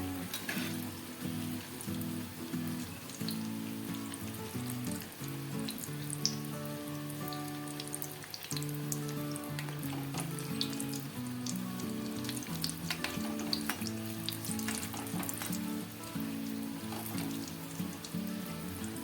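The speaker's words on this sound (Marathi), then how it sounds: "बारीक गॅसवरच व्यवस्थित सगळ्या बाजूनी फ्राय करून घ्यायचं आहे जेणेकरून आतपर्यंत ते व्यवस्थित तळले जातील" Veg cheese balls deep fry in oil on a low flame, a steady rain-like bubbling crackle that runs unbroken throughout over a faint background musical tone, with no talk.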